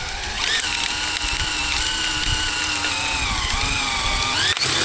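A power drill drives a Spax screw into the end of a wooden board, splitting the wood; a loud, steady motor whine with a rising pitch runs close and continuous, ending in a sharp clack.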